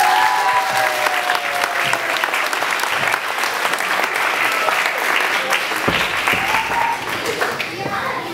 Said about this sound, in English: Please give her a huge, big round of applause.